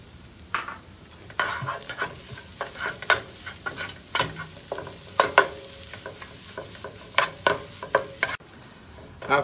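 Glutinous rice mixture with salt and green onion being stirred in a hot pan: repeated scraping and clacking strokes in an irregular rhythm over a low sizzle, close and fairly loud.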